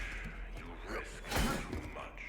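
A door opening in the sci-fi horror video game The Callisto Protocol, heard as a single heavy mechanical thud amid a low game ambience.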